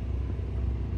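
A large vehicle drives along a dirt road, its low steady engine rumble filling the moment without pause, moderately close and unaccompanied by speech.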